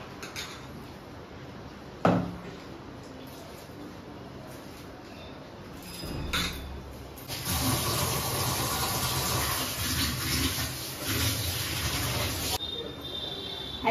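Banana blossom soaked with salt and turmeric is rinsed clean in a pot of water: a sharp clatter early, then several seconds of steady splashing and rushing water that stops abruptly.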